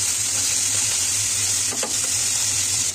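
Bele fish fries in a pan with a close, even hiss of sizzling oil, broken by a short clatter of stirring partway through, and no one speaking.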